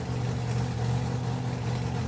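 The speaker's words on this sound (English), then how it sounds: "the clutch tugged the engine down. You could hear it." A doorslammer drag racing car's engine bogs down as the clutch engages, giving a heavy, low, steady rumble with a droning tone, close and loud with no other sounds over it.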